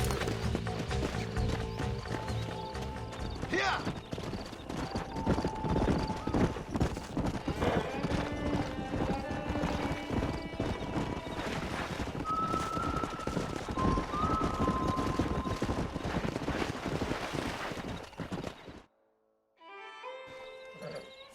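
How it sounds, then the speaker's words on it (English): Horse hooves clip-clop steadily in a Western-themed video game while a horse neighs and whinnies, under music and game sounds, with a brief spoken word before the sound cuts out near the end. "We got some fine horses."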